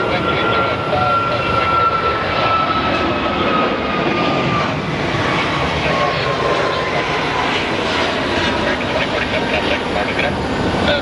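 A 62-year-old Boeing KC-135 military jet on the runway at Sky Harbor International Airport, a steady broadband engine roar that holds loud and constant throughout, with camera shutters clicking and faint talk nearby.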